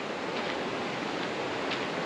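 A river flows right beside an abandoned building in an African jungle, giving a steady, even rush of water at moderate loudness with no voices.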